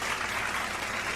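Steady applause from a crowd, a dense even patter of clapping that holds at one level for about a second.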